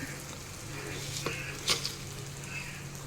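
Egg frying in butter in a pan gives a soft, continuous sizzle with a few sharp crackles and a brief utensil scrape near the middle, close and fairly quiet.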